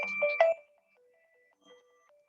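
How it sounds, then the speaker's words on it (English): A mobile phone ringtone sounds in a short melodic burst of bright electronic tones, loud and close for about half a second, then trails off into quieter, sparse tonal fragments. "think my phone is ringing."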